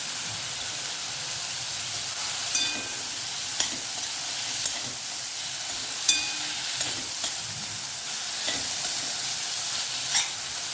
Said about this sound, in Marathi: भाजीला छान परतून घ्यायचं आहे